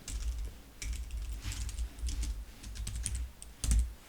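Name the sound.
typing on a computer keyboard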